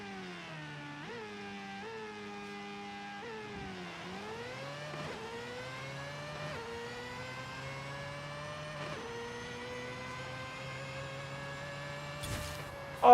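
Tuned 700-horsepower 2002 Mazda RX-7 rotary in Forza Horizon 5, revving through repeated burnouts and a high-rpm launch, engine pitch rising and falling in a steady drone with shifts before a final burst.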